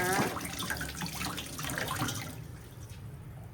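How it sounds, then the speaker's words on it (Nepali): Eggplant being washed under a running kitchen tap, a steady broad rush of water with splashing that stays loud and close, then thins slightly toward the end. "मजाले पखाल्नु पर्छ, हिलो मैला बसेको हुन्छ"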